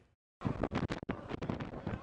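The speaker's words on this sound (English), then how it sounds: "Look at these crazy winds from the Aviators' first home opener in 2019." Strong gusting wind batters a microphone at a Las Vegas Aviators baseball home opener, loud bursts of roaring buffeting after a brief quiet start.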